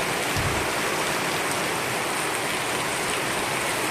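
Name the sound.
heavy rain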